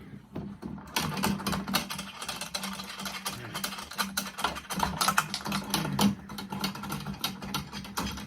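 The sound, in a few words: unscrewing tension rods on a Ludwig snare drum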